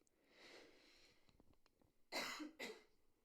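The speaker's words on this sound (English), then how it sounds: "I'm getting a cough." A person coughs, two sharp harsh bursts close by after some breathy throat noise, in an otherwise quiet room.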